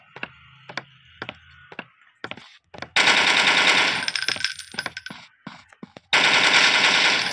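Gunfire in the Android dinosaur-hunting game Deadly Dino Hunter: a string of single sharp shots spaced out, then bursts of rapid automatic fire, loud and close with no talking.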